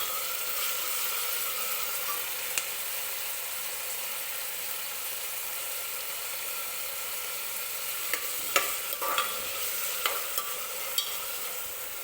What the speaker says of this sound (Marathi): टोमॅटो सुद्धा छान सॉफ्ट होईपर्यंत तेलामध्ये भाजून घ्यायचं आहे व्यवस्थित